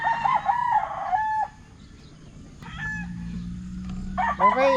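Roosters crow repeatedly at a gamefarm breeding stags, with loud nearby crows early on and more calls toward the end, along with some clucking and soft farm background noise.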